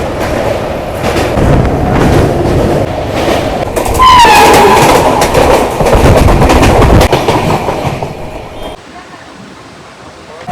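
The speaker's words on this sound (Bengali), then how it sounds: "এই মুহূর্তে ট্রেন কিন্তু তার নিজস্ব গতিতে ছুটে চলেছে।" Passenger train running at speed across the Vivekananda Setu rail bridge near Dakshineswar, Kolkata, heard from inside a coach: a loud, steady rushing rumble with rattling wheel noise that cuts off abruptly near the end.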